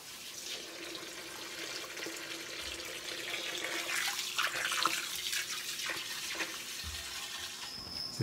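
Water pours steadily into a stainless steel Finlay wax melter unit, a continuous broadband rush filling the bath, close and alone with no talk.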